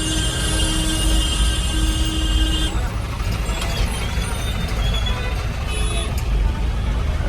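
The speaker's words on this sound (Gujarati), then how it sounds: "ટ્રાફિક તો સાણંદમાં કોઈ દાડો ઓછું થાય જ નહીં." Dense road traffic churns along a busy market street in Sanand, with a loud, continuous engine rumble and a high tonal horn-like drone that holds for the first few seconds, then cuts off.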